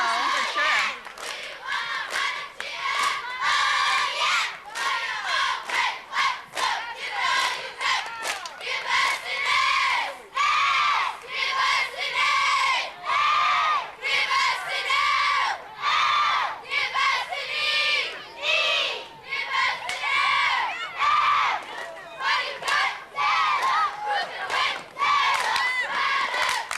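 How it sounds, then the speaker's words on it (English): A boys' group chants and shouts a cheer in unison at a heritage days parade, loud, rhythmic bursts of many young voices, continuous over the whole stretch with a crowd around them. "Let's listen to their cheer."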